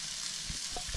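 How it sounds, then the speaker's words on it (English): Grilled potatoes and bacon-wrapped asparagus sizzle steadily on a grill, a soft continuous frying hiss with a few faint pops and ticks near the end. "And some grilled up potatoes we're gonna have. Great sizzle going."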